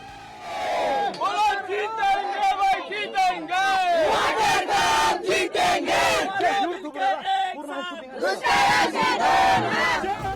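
Villagers celebrating after digging water pits, a loud crowd cheering, whooping and shouting together in continuous waves of excited voices close by.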